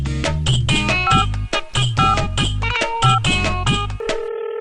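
A telephone number is dialled, heard as a rapid series of distinct electronic key tones, each a short bright beep, ending in a steadier held tone.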